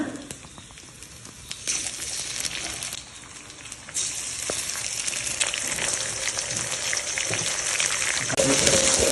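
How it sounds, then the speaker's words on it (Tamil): An egg cracked into hot oil with ginger garlic paste sizzles loudly, the frying hiss rising in steps as it hits the pan, with clinks and scrapes mixed in, close and without talk. "முட்டையை உடச்சி இதில் ஊற்றிக்கலாம்"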